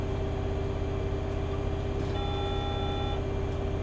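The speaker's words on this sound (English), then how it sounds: "What's that alarm?" An alarm in Bus Simulator 18 gives a steady electronic beep tone for about a second over the constant low rumble of a bus engine.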